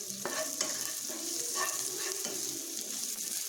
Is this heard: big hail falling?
no